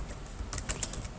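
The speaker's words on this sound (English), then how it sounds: "So we could actually type out this container." Quick bursts of keystrokes on a computer keyboard, a handful of close, crisp clicks in an uneven rhythm over a quiet room hum, with no one speaking.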